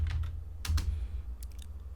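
Keys clatter on a computer keyboard as a ping command is typed into a command prompt, in a few quick bursts of close, crisp strokes separated by short pauses.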